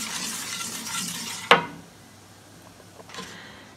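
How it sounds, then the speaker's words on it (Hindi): Wheat flour roasting in ghee in a pan for Randeri sohan halwa: a dry, hissing scrape for about a second and a half, then one sharp clank of a utensil against the pan, followed by quieter stirring. "इसको मैं थोड़ा सा रोस्ट करूँगी"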